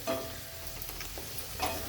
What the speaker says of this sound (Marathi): त्याच्यावरच आपल्याला ही चक्कीची भाजी शिजवून घ्यायची